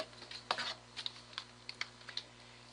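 Numbers typed on a computer keyboard, a few soft, close key clicks in irregular short bursts against a faint steady hum.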